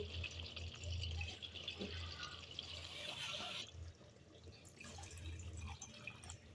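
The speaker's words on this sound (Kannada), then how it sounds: "ಬೇಕಾಗಿರೋದ್ರಿಂದ ನಾನು ಸ್ವಲ್ಪ ನೀರನ್ನ ಹಾಕ್ಕೊತೀನಿ ಫ್ರೆಂಡ್ಸ್" Water is poured into a pot of cooking chana dal, giving a soft, faint pouring and trickling sound that stops partway through, followed by a quiet room.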